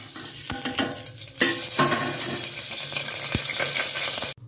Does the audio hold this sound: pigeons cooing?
no